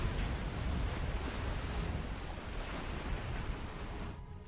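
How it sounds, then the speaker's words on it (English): Choppy open-ocean waves in the submarine game Silent Hunter IV make a loud, continuous rushing wash with gusty wind noise, steady throughout and cutting off abruptly at the end. "Fortunately, the waves are a little bit choppy"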